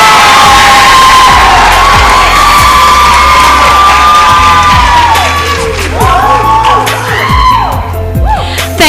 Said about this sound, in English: Audience, let's give them a big round of applause